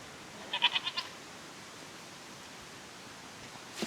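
A goat on a small farm with cattle gives one short, quivering bleat of about five rapid pulses near the start, fairly faint over steady background hiss, followed by quiet.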